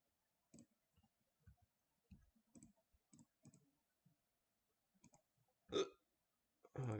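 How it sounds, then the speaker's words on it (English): Repeated hiccups, short sharp gulping clicks spaced irregularly, close and fairly quiet in an otherwise silent room, with a louder burp-like sound near the end. "these hiccups are bad, bro"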